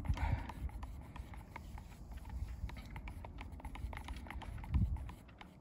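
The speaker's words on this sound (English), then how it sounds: "It's got some resistance when I'm stirring it." A stick stirs a thick mix of Rustoleum paint, making soft, uneven scraping and little knocks against the container, close and fairly quiet.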